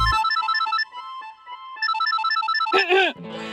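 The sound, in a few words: phone ringtone ringing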